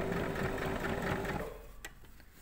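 Sewing machine stitching a corset facing seam runs in a steady, moderately quiet mechanical whir for about a second and a half, then stops, leaving a few faint clicks.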